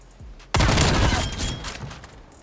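Rapid automatic rifle fire from a Call of Duty Cold War weapon, a loud sustained burst of fast shots that starts abruptly after a brief quiet moment and rings out for about two seconds before tailing off.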